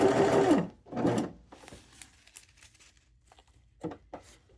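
Sewing machine running bursts of stitches along the edge of fabric for a cycling bib hem, two loud runs followed by quieter clicks and handling noises.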